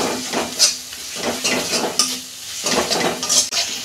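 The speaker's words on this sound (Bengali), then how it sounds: "মশলাটাকে আমি ভালো করে 2 মিনিট কষতে নেব।" Spice paste with chilli powder and ginger being fried and stirred in a pan while cooking a fish curry, with steady sizzling and repeated scraping strokes of a utensil against the pan, close and moderately loud, with no talking.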